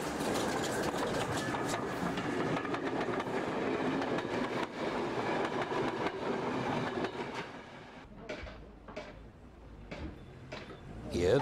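A British steam tank engine train rumbles steadily along the rails with a continuous rolling clatter, then the roar thins out into quieter, intermittent clanks near the end.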